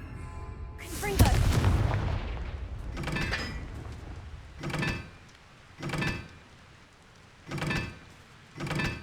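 Confringo blasting spell in Hogwarts Legacy, a loud burst of explosion near the start that fades out, followed by four evenly spaced, shorter whooshing blasts.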